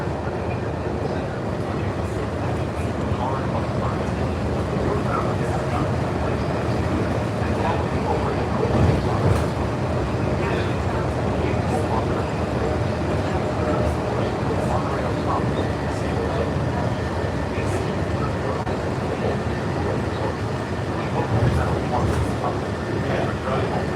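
Riding aboard a Walt Disney World monorail over a bumpy concrete beam gives a loud, constant rolling roar with irregular clunks and rattles throughout the cabin. A voice talks intermittently over it.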